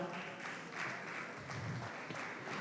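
A crowd at a conference applauds, a dense, steady patter of many hands clapping at a moderate distance.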